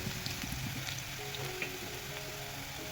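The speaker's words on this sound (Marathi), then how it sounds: "बरं आपलं लसूण पण चांगला परतलेला आहे" Garlic sautéing in a hot pan for a Maharashtrian patvadi rassa gives a steady, close crackling sizzle with scattered pops, continuous for the whole stretch and with no voices.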